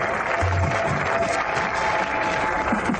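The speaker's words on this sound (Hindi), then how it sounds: "ताली बजाओ रे" A group applauds in a movie scene, with steady dense clapping that holds at an even level for about three seconds.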